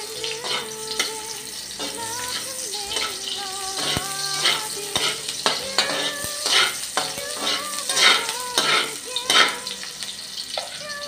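Onions sizzle in a pan while being stirred for duck adobo: a steady, close frying hiss under repeated scraping and clinking of a utensil against the pan.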